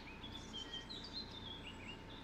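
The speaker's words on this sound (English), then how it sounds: "the birds chirping and stuff like that is just relentless" Birds chirp and trill outdoors near a trail, a faint, distant scatter of high calls and tweets over a quiet ambient hum.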